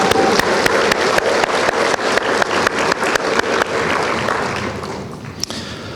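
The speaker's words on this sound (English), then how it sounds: "Can we give her a big round of applause for that?" Graduation ceremony audience for the class of 2022 clapping: a dense, loud wash of applause with sharp individual claps throughout, thinning out in the last second.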